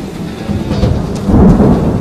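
Loud, close thunder from a tropical monsoon storm in Singapore rolls as a deep continuous rumble that swells toward the end, over a steady hiss of rain.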